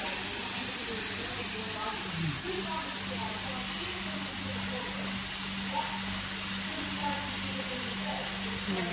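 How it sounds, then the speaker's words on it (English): Marinated steak fries in a pan with butter and garlic, giving off a steady, continuous sizzle and hiss over a low hum, while a person talks nearby. "Lagay ko na yung steak sa pan."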